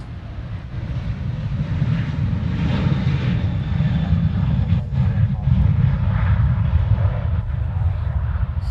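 A heavily fueled airliner bound for Majuro at Honolulu airport gives a steady, distant low roar that swells slightly, with someone talking over it.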